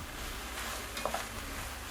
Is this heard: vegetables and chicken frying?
yes